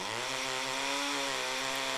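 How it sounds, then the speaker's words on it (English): Chainsaw from the visual novel The Fruit of Grisaia, a loud continuous buzzing engine drone holding steady for two seconds, with no talking. "I ordered a chainsaw online."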